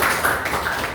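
A class of pupils claps together briefly, producing a dense burst of many overlapping hand claps that holds steady and close for about a second.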